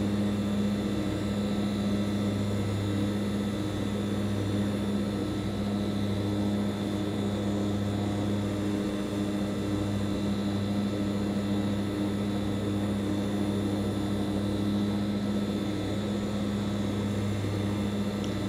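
Steady propeller drone of a Hawker Siddeley HS 748 turboprop in a flight simulator, a constant tonal hum with low rumble holding level throughout with no talk.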